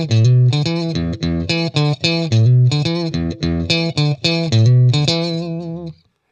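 A funky electric guitar riff with choppy, rhythmic chords and short stabs, loud and close, playing alone for about six seconds before stopping.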